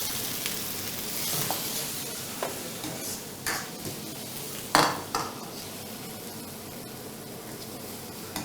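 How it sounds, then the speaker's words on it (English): Garlic frying in a hot pan, a steady close sizzle with occasional utensil clinks and scrapes against the pan. "So we put some garlic."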